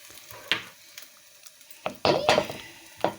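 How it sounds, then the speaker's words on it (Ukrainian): Light sizzle of cottage cheese pancakes frying in a pan with scattered scraping and clinks of a utensil against it, a few sharper bursts near the end. "І от зараз жарю от такі дуже красиві сирнички"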